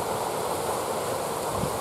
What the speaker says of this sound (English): Waterfall there.